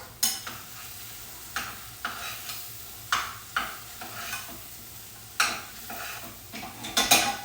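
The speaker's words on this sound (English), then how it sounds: "And we're gonna periodically just stir them around" Vegetables sizzle in a hot pan as a utensil stirs them, knocking against the metal in irregular clanks and scrapes over a steady frying hiss, no talking.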